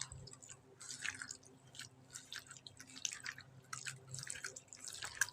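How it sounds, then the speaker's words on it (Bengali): Fish roe mixture with ground spice paste squelches softly as it is kneaded by hand in a bowl, with quiet wet squishing and dripping sounds coming in irregular bursts close up. "এই যে আমি সব দিয়ে এখানে হাত দিয়ে ভালো মতন মেখে নিচ্ছি।"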